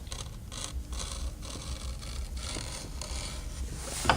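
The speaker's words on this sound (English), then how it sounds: "I'm going to run a little bevel around the edge here" Close, dry scraping of an edge beveler drawn along a leather edge in short repeated strokes, with faint rhythmic rasping and clicks and no talking.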